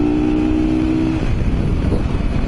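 A Mondial Rx3i Evo motorcycle being ridden gives a loud, close, continuous engine drone, its tone shifting about midway, with no talking.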